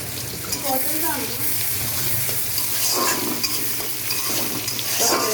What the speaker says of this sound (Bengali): পেঁয়াজের ফোড়ন দিয়ে দিলাম তেজপাতা পাঁচফোড়ন একটু ফোড়ন দিয়ে